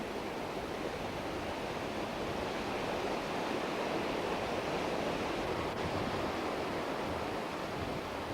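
Rushing white water of rapids on the Umkomaas River during a canoe marathon, a steady, dense roar of turbulent flow that fills the whole clip without pause, close and fairly loud, with no voices.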